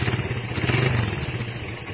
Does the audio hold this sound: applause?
no